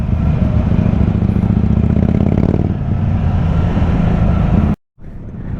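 A Yamaha RX 100 two-stroke motorcycle idles and runs close by with a loud, steady buzzing drone that eases slightly partway through, then cuts out briefly before picking up again.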